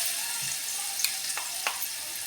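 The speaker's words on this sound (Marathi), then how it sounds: "आपलं तेल तापलेलं आहे, आपण त्याच्यात आल्या लसणाची पेस्ट घालणार आहोत।" Ginger garlic paste dropped into hot oil for a spring onion paratha filling, giving a steady hiss of frying with a couple of brief sharper crackles partway through, close and fairly quiet.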